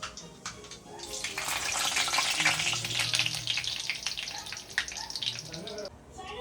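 Curry leaves hit hot oil with mustard seeds, giving a loud, bubbling sizzle that swells and then eases, with scattered pops; someone speaks over it.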